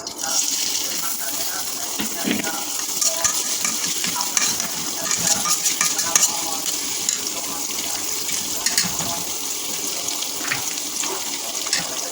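Sliced onions go into hot oil in a home kitchen and fry with a continuous crackling sizzle. Scraping and stirring clatter sounds close up throughout, with no talking.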